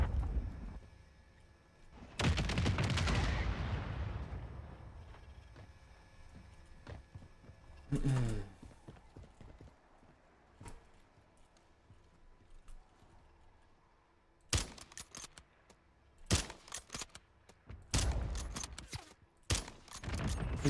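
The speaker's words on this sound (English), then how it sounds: "I'm getting sniped at from someone." Sniper rifle shots ring out in a battle royale video game, sharp cracks arriving several times with long quiet gaps between them, some ringing with a trailing echo, moderately loud over a low background.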